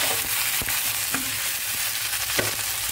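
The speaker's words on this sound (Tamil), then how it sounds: "காயெல்லாம் சேர்த்து நல்லா கலந்து விடுங்க" Vegetables with softened tomato are stirred in a pan while cooking for sambar rice (bisibelabath), with steady sizzling underneath and a few sharp spoon scrapes and knocks against the pan.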